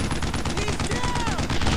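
An anti-tank gun fires amid battle in the World War II video game Brothers in Arms: Road to Hill 30. Dense, loud, overlapping gunfire and explosions fill the whole moment without a break.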